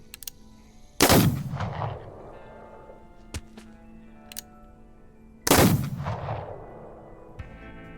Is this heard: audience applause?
no